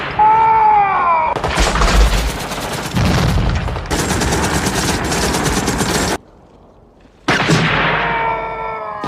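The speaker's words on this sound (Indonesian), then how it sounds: "Vietcong melakukan serangan yang sisi baiknya membuat Joker dan kawan-kawan mengetahui di mana posisi musuh bersembunyi" Vietcong attack scene from the film Full Metal Jacket: loud, sustained gunfire and bursts of automatic weapons, dense and continuous, with a brief lull before another heavy burst.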